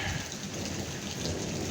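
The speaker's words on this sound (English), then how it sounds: "it's raining here" Steady rain falls on the first week of spring, a dense, even hiss of drops striking surfaces close by, continuous with no talk and no breaks.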